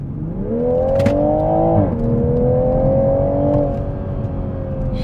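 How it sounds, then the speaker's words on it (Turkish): A 2021 Toyota Supra accelerates hard in sport mode, its engine note climbing steadily with a brief dip at a gear change, then pulling again; loud, close and continuous with no talking. "Bir de aracı spor modunda hızlandıralım."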